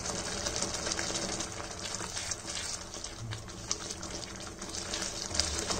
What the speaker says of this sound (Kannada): ಇದು ಕುದೀತಾ ಇದೆ.